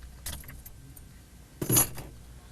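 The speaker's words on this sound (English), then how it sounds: "So let's turn the ignition off now and remove the key." Keys jangle as a car key is turned off and pulled from the ignition of a 1996 Buick, with two short close bursts of metallic rattling, the second louder, inside a quiet car.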